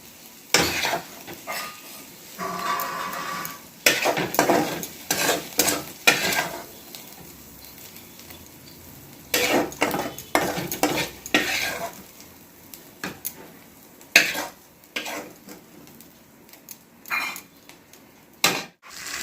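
A spatula scrapes and stirs spice paste frying in a kadai for a Bengali rohu fish curry, irregular bursts of metallic scraping and clatter over a soft sizzle, close and fairly loud.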